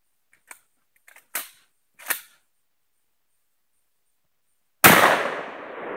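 Sharp gunshots fired at a box: a few quick faint pops early on, then two louder single cracks spaced apart, and after a pause one big close shot with a long ringing decay; no speech.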